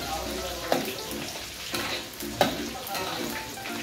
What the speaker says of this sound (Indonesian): Oke, kita goreng di bawangnya. Minyaknya sudah panas.